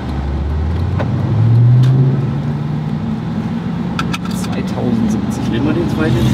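An Audi RS4 B7 estate drives along with a steady loud engine drone that swells briefly as it accelerates, while people talk over it inside the car.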